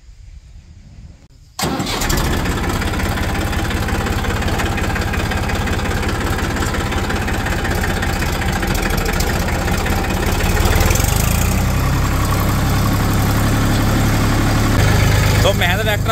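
Massey tractor with a harrow attached, its diesel engine cranking and catching after a short quiet moment, then idling loud and steady, with the rumble deepening and growing heavier partway through.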